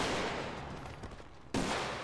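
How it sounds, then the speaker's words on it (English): Gunfire in a GTA roleplay game session, a dense burst of rapid shots that fills the clip, briefly thins out near the middle, then slams back in loud. "Yo, yeah, they shooting"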